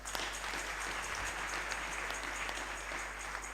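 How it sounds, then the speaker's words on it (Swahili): Steady audience applause at a Kikuyu church service, continuous clapping at moderate level for a few seconds with no speech over it. "Asante sana, tuwapigia makofi."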